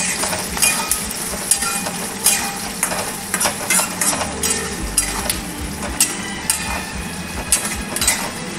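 Onions sizzle in hot oil seasoned with cloves and cinnamon while a utensil stirs and scrapes the pan, a bright continuous hiss broken by irregular clinks and scrapes close by.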